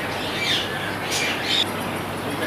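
Caged exotic birds at a market, including China doves and parrots, giving a few short, shrill squawks over a constant background hum.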